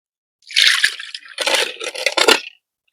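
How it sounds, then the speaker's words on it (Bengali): Water splashes over and rinses an aluminium bowl in two or three short, close bursts of splashing and clatter with brief pauses between, alone without talk. "ধুয়ে নেবো এবার।"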